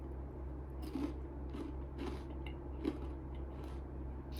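Salty, chip-like Japanese snacks from a 100 yen shop crunched between the teeth in a handful of close, crisp bites spread across a few seconds, over a steady low hum with no talking.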